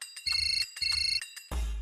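An electronic phone ringtone plays close by in two repeated melodic bursts, then a louder burst cuts in at the end.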